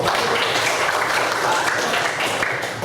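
A classroom gives applause during a civics teaching-practice session, a short burst of brisk clapping from students that fills the space evenly and fades a little at the close.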